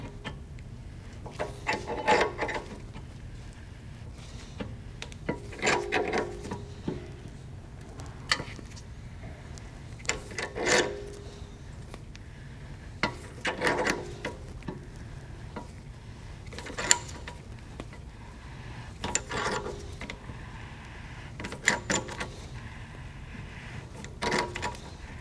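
Hand-turned caliper piston tool working a Volkswagen GLI MK6 brake caliper piston back in, making a series of short scraping, ratcheting rubs at a steady, unhurried rhythm, close up and fairly quiet.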